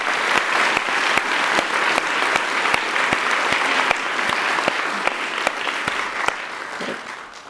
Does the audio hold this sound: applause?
yes